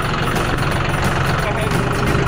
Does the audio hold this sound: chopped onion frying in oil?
no